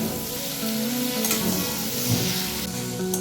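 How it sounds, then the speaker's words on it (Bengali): Sliced onion, ground spice paste and chopped tomato fry together in a pan, giving a steady close sizzle with a few soft stirring scrapes over it. "এটাকে এইভাবে আমি মিনিট 3 ভেজে নিয়েছি।"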